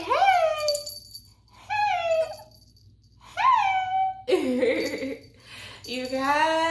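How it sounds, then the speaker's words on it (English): Toy poodle puppy whimpering and whining in a few high, rising cries, close by, with a steady low hum beneath. "I got a toy poodle"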